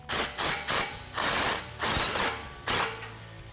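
A ratchet snugs up exhaust clamp nuts on a 2017 Ford F-150 Raptor's Ford Performance dual rear exit cat-back system. Six close, loud bursts of rapid clicking are separated by short pauses.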